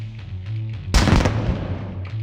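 A sudden loud grenade blast in a sci-fi video game erupts after a low hum, a heavy booming burst that rumbles and decays over about a second under the steady game drone.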